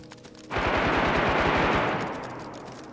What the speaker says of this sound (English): More shots just up ahead.